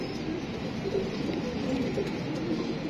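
A teddy pigeon gives soft, low, repeated coos over a constant background hum.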